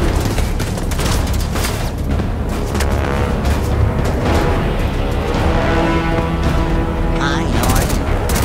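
A grenade explosion and gunfire in The Division 2 video game set in fallen Washington, D.C., with constant loud shooting, booms and sharp cracks mixed into a dense battle din.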